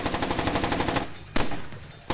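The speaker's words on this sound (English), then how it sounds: "Oh, that's a shot. You got shot, yes." Rapid automatic gunfire in the stealth game Splinter Cell: Chaos Theory, a dense rattling burst that cuts off and is followed by a couple of sharp single cracks, loud and close.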